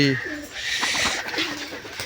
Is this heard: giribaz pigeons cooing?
yes